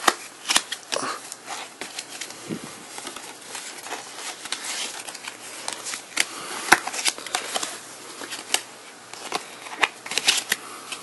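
A deck of 40 trading cards being gathered and squared up by hand, with irregular papery riffles, slides and sharp taps, close and without any talk.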